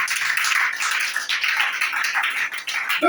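A church congregation clapping together during a Friday service, brisk rhythmic handclaps filling the room with a few cries mixed in.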